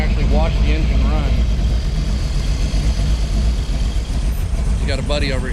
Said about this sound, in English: one of the rare shots you can get on this car is you can actually watch the engine run.